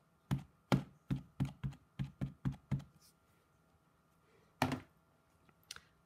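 A rubber stamp pressed repeatedly onto an ink pad while inking it for a coral-like texture: eight quick, close dull taps in a steady rhythm, then a pause and two more isolated taps, no talk.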